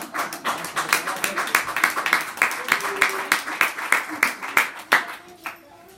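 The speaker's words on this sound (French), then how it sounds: "Thierry Nouveau, messieurs, dames, sous vos applaudissements" An audience at a Bulles des prés reader prize ceremony claps for a comic-book author, a fairly sparse run of distinct hand claps in a loose, uneven rhythm that thins out and stops near the end.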